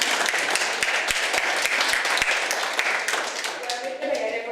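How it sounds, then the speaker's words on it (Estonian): Seventh-grade class at Türi Põhikool gives itself a big round of applause, with lively crowded clapping and a few distinct sharp claps over excited voices. "teeme kõik endale suur aplausi."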